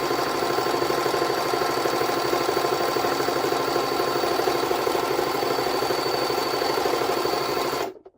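A Jaguar JS-35 domestic sewing machine runs a straight stitch, a steady close whirring hum with rapid needle rhythm held at constant speed for about eight seconds, then stopping abruptly.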